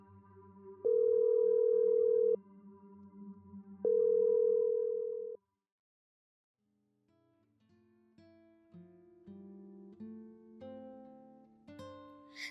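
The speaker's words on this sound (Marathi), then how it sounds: "त्याने लगेचच तपस्याने पाठवलेल्या करणचा नंबर डायल केला" A phone ringback tone after a number is dialed: two long, steady tones separated by a pause, followed by music.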